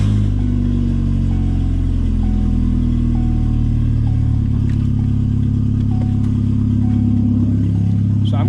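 A turbocharged Hyundai Getz engine idles steadily for the whole stretch, a loud continuous low rumble with a faint whine on top and no talking over it.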